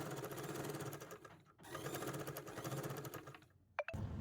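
Sewing machine stitching invisible piping onto a garment lining, running steadily with a brief pause near the middle and a short stop toward the end, close and clear with no talking.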